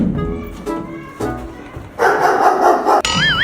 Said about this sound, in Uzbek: Uyingizdan kuchukning ovozi kelyaptimi?